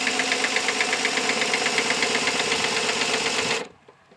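Briggs & Stratton vertical shaft engine with a see-through splash-oiler setup, turned over by a drill: a steady, loud mechanical whirring and knocking with rapid rhythmic pulses that run evenly for several seconds, then cut off abruptly into near silence.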